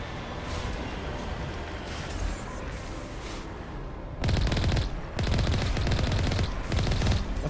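Gunfire in the video game Mass Effect Legendary Edition: a soft, continuous rattle of shots, then louder, dense automatic bursts that cut in and out in blocks over the last few seconds.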